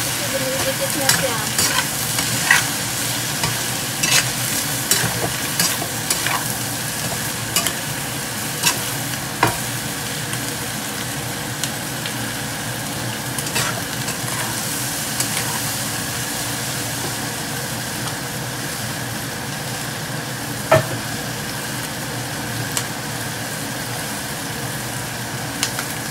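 Bicol express sizzles steadily in a pan after chilies are added, with occasional scraping stirs against a constant frying hiss and no talk.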